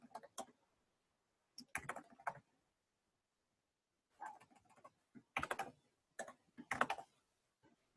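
Bursts of clicking keystrokes on a computer keyboard, close and quiet, in several separate runs broken by short silent pauses.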